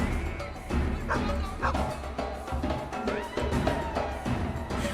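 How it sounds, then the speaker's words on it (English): Small dog yipping and barking in short bursts in the video game Planet Crafter, with a few whimpers, over a steady game background hum and some faint talk. "I can still hear the barking there, right?"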